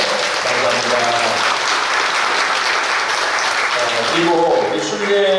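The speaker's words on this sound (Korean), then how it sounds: "한번 크게 박수 한번 해주실까요?" Warm applause from a church congregation at a Korean pilgrimage-route launch ceremony, steady clapping from many people with a voice speaking over it.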